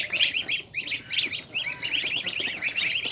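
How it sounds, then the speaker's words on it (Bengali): A goose on a poultry farm honks in rapid, repeated bursts, loud and close, with a few short pauses between the calls. "একটা রাজহাঁস"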